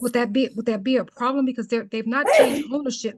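A single short sneeze bursts out in the middle of a person's steady conversational speech.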